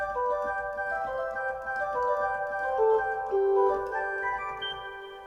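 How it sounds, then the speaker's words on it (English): Pipe organ flute stops play a soft, sustained chordal line with gently moving upper notes and a mellow, rounded tone, fairly quiet and heard alone. "The second group of sounds are called the flutes."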